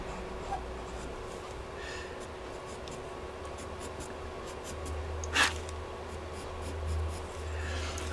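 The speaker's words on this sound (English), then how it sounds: "That little twist as the pencil goes." Pastel pencil scratching and rubbing on paper as it is twisted while drawing, a soft continuous faint scraping with one brief sharper stroke midway, no voices.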